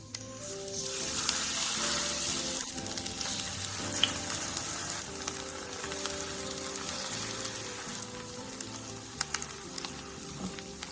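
Slices of lotus root in thin, light tempura batter sizzle in shallow oil. There is a steady, moderate crackle and hiss with small pops scattered through it, and it sounds close by.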